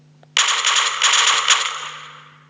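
A G3 rifle from a Minecraft PE gun mod empties its 20-round magazine in one fast, rattling burst lasting well over a second. It then trails off in a fading ring.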